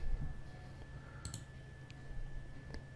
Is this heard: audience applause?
no